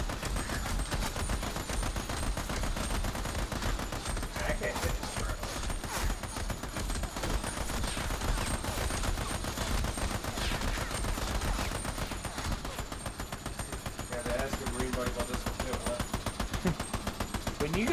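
Continuous automatic gunfire in the co-op shooter game Army of Two, dense rapid bursts running without pause for the whole stretch, loud and close with a busy battle din underneath.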